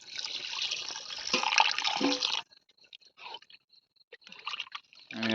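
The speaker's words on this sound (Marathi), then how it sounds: "हे बघा आम्ही आता पाणी टाकतो" Water splashes loudly into a pot of village chicken on a wood-fired clay stove for about two seconds, then stops, followed by faint drips and small clinks.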